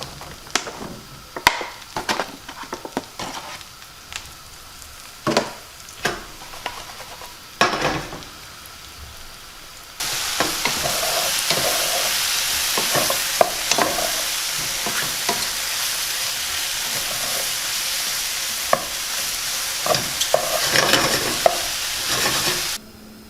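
Sixteen ounces of sliced white mushrooms sauté in a pan, browning for a stuffed chicken Alfredo pizza, with wooden scraping and stirring clacks at first, then a loud steady sizzle joins in and continues under repeated stirring.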